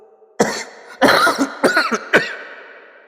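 A burst of four harsh coughs from someone with a cold, close and loud, the later ones rougher and trailing off; no speech.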